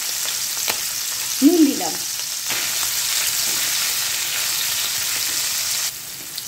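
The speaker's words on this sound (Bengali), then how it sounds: "এবার সিদ্ধ করা সয়াবিনগুলো নুন দিয়ে ভেজে নেব।" Boiled soybeans frying with salt in a pan for a Bengali egg curry give off a steady, close sizzle, with a short spoken phrase near the start.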